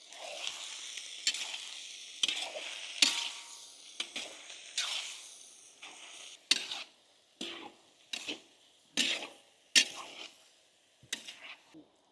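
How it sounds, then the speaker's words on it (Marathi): Onions frying for a village-style Maharashtrian egg curry gravy, stirred in a pan: a steady sizzle broken by repeated scraping strokes of the spoon at an uneven rhythm, close and fairly loud, with no talking. "आपण आता ग्रेव्हीसाठी कांदे फ्राय करून घेऊ."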